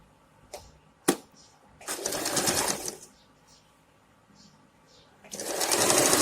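A sewing machine stitches a pant waistband with a belt fabric piece inside, in two loud bursts of running separated by a quieter pause with small handling clicks.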